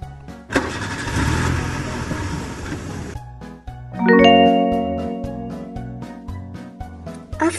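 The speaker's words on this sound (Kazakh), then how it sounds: "автобус!" A cartoon bus engine starts with a loud burst of rough, noisy cranking. It then settles into a steady, tonal running hum with a harmonic whine, and no one speaks.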